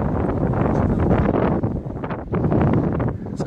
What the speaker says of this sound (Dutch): Ja, het waait wel, dus dat hoor je natuurlijk.